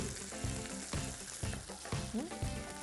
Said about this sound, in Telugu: ఇందులో కొంచెం మంచిగా ఫ్రై చేసుకోండి